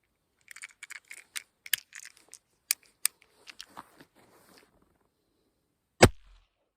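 A tiny LifeCard gun the size of a credit card fires a single sharp shot near the end, after a run of light clicks and handling sounds.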